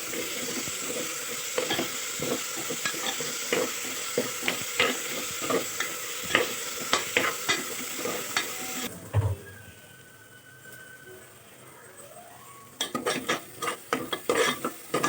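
Masala for chicken biryani fries and is stirred, with a steady sizzle and rapid scraping and clinking of a spoon against the pot, then a short quieter pause before brisk stirring resumes.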